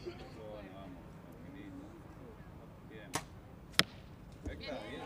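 Compound bows are shot at a women's team gold-medal archery final, producing two sharp, brief cracks a moment apart over a low murmur of voices and arena ambience, with a softer thump near the end.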